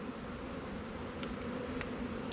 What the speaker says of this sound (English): we have 1 there trying to sting us now